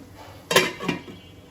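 A lid goes onto a cooking pot of country chicken gizzards, liver and skin with bean seeds, landing with one sharp metallic clank and then a second lighter clink a moment later.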